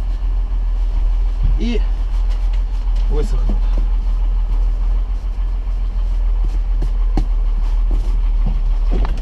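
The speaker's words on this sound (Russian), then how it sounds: "Сейчас трактор заведу, протоплю" A tractor engine rumbles steadily with a deep, constant low drone throughout, fairly loud and close, while someone speaks briefly over it.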